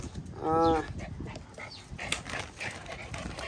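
A dog lets out a short whining yelp near the start, then background shuffling and handling noises continue with occasional muffled voices.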